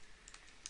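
A few faint, quick keystrokes on a computer keyboard while entering a command in Command Prompt, soft isolated clicks in a quiet room.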